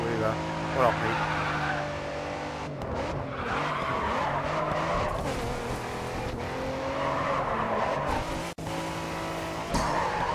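Race car in the Grid 2 video game, its engine droning loudly and steadily with repeated tire skids and squeals throughout, the roar continuous and close.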